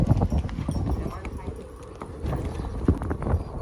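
Horse hooves clip-clopping in a steady rhythm, close and fairly loud, with people talking over them throughout.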